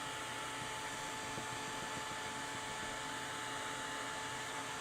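A hair dryer blows steadily to dry acrylic paint on a canvas, a constant whooshing whine held at even volume throughout, close up and with no talk.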